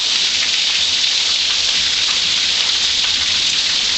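Hail and heavy rain pour down during a storm in Simi Valley, California, a steady dense hiss of hard drops pelting surfaces, loud and constant throughout with no talking.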